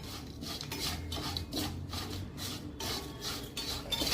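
Dry fried mango pickle being stirred with a spoon, giving a steady crisp rasping scrape in repeated strokes with a few faint metallic clinks, close and alone.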